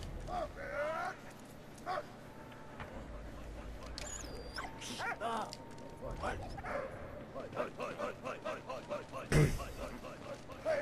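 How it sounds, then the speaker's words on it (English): A dog in the Valiant Hearts video game gives a series of short yips and barks scattered through the scene, set against game effects and background sounds, with a person talking over it throughout. "don't mind the dog with the wrench right there"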